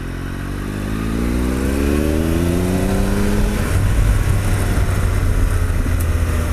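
A 2013 Triumph Tiger Explorer motorcycle rides along, its engine note rising as it pulls away, then settling into a steady, loud drone with wind and road noise for the rest of the stretch.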